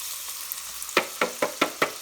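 Finely chopped onions, two medium ones, frying in a family-sized pot for chicken madras: a steady soft sizzle with five crisp stirring knocks in an even rhythm toward the end, close and fairly quiet.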